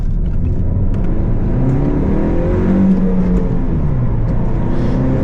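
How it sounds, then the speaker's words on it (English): A 2020 Honda Civic Si engine revs hard and steady from inside the cabin, pitch rising and falling as it accelerates through the gears. "The rev hang sucks, but this thing rips."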